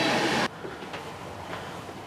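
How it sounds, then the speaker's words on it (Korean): Train on a Swiss railway between Interlaken and Lucerne: a loud burst of rushing noise for half a second, then a quieter steady rumble of the running train with faint clatters, and no voices. "또다시 기차에 올랐다."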